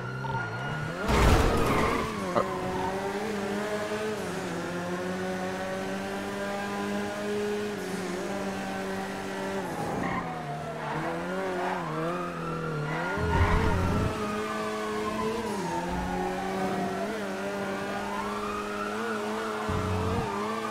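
A getaway car in a heist video game speeds away with a sustained, loud engine drone whose pitch rises and falls through gear shifts, with tire screeches at moments and no talk over it.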